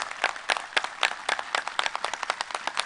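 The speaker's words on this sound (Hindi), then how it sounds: "तो जब ताली बजाए रहे हो तो जोर से बजा लो" An audience at a spiritual discourse claps together, starting with loose scattered claps that quicken into a fast, fairly close rhythmic clapping, with no talk over it.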